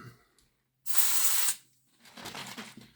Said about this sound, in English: So we'll get this commutator cleaned up. We'll give it a scoosh first of all.